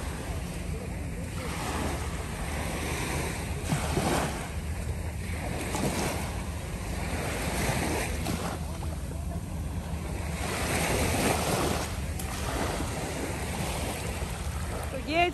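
Sea surf rolling onto the shore at Kite Beach, Dubai, a steady broadband wash with swells rising and falling, wind buffeting the microphone throughout.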